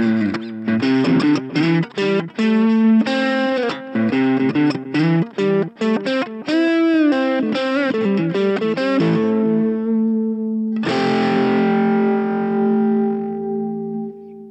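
Electric guitar through the overdrive channel of a Nux Lite Mini amp, gritty, plays choppy chords and short riffs, loud and close, ending on a long sustained ringing chord.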